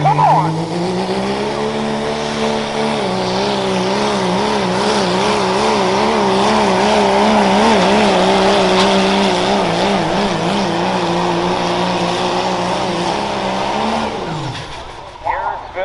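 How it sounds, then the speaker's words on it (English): A 2001 Dodge Ram 2500 truck at a fair tractor pull, its engine roaring loud and sustained under load with a wavering, rising pitch before cutting off near the end, with announcer talk and crowd noise mixed in. "Here comes Travis Pushler, the half-speed 2001 Dodge Ram 2500."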